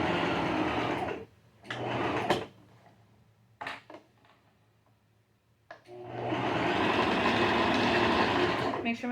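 A sewing machine stitches a shorts band onto a side pocket in several bursts of rapid, buzzing stitching separated by pauses, the longest run at the end, with a voice talking in the quiet gaps.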